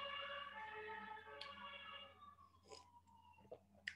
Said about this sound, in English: There's some ambulances going by.